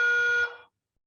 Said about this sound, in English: It looks like we're making an entrance here with the alarm.